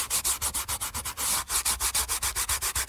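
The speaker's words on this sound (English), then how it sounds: "Just keep kind of rubbing at it until you don't feel any bumps." Dried masking fluid being rubbed off a watercolor nebula and galaxy painting, with steady, rhythmic back-and-forth scrubbing strokes, close and fairly loud, with no talking.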